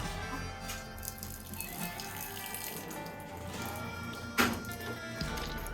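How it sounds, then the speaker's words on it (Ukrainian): Water trickles and gurgles as it drains from a rabbit hutch's nipple drinking system after flushing, a soft steady flow with one brief louder splash near the end. "Ждемо, щоб вода збігла."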